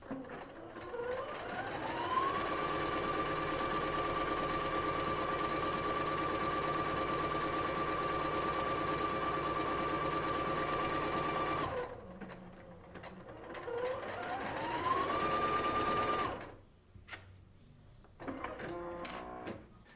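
A Singer SE 9185 sewing and embroidery machine stitches test patterns on fabric: the motor whirs up to a steady, fast buzzing run of about ten seconds, stops, then makes a shorter second run, followed by quiet clicks.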